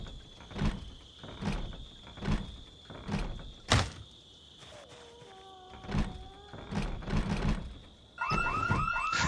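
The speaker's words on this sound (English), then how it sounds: "The alarm goes off." A car alarm goes off in Project Zomboid, loud repeated thumping pulses and a steady whine, with a rising warbling siren tone joining near the end.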